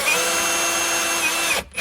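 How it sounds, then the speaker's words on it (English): A power drill drives drywall screws into a 2x4 wooden backer under a sink base cabinet, a steady, loud, continuous whine that stops briefly near the end. "And I'm getting the screws, screwing this 2x4 backer in."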